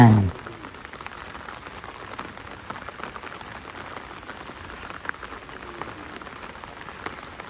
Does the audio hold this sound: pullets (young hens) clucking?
no